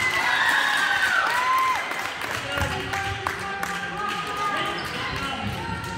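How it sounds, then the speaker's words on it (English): At a seventh-grade girls' basketball game between Hicksville and Defiance, a small but loud crowd of fans cheers and shouts in a gym, a steady roar with sneaker squeaks and a few ball bounces, while an announcer talks over it. "It's a small crowd, but man, they're loud."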